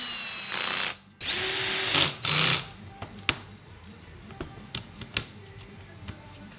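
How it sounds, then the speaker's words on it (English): A power drill with a countersink bit whirs in several short bursts sinking a screw into aluminium, then stops, leaving quiet sparse clicks and taps. "using a regular drill and countersink bit"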